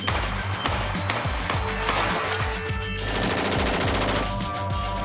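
A Fort assault rifle fires loud, sustained automatic bursts, with rapid evenly spaced shots rattling on without pause for about five seconds.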